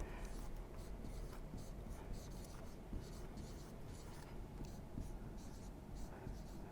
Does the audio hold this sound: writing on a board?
yes